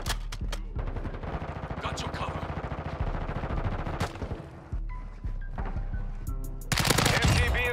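Rapid automatic gunfire from a machine gun in Modern Warfare 2, dense continuous bursts with a short pause and a loud final volley, under busy game effects.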